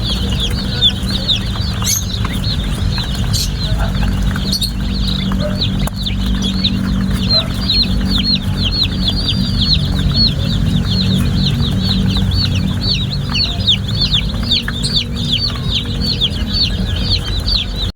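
A large flock of baby chicks peeps without pause, their shrill, overlapping chirps packed close together in a steady chorus over a low background rumble, with no one speaking.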